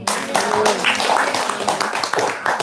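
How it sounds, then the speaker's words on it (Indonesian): Audience applause at an Indonesian spiritual talk gathering, a steady patter of many hands clapping, moderately near, running through the whole stretch with no talk over it. "Tepuk tangan dong"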